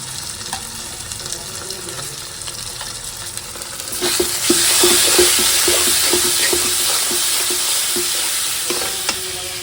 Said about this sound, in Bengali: তো এখন আমি মশলাটা কষাই নেবো